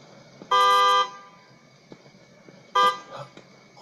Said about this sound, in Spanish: No me digas que era la puta bocina solo.